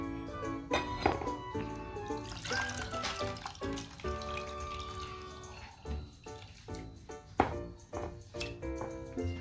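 Jaggery water is poured into a neem mixture with irregular close drips and trickles, soft splashes and light clinks of a vessel, all fairly quiet.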